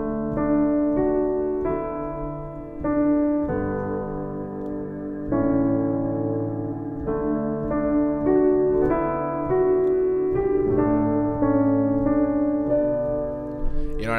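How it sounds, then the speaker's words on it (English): The Evo Ambience pad patch from Oliver Arnold's Composer Toolkit plays alone as a soft, wide ambient synth, with layered sustained tones that shift chords slowly over about fourteen seconds at a steady, moderate level. "It's the Evo Ambience patch from Oliver Arnold's Composer Toolkit"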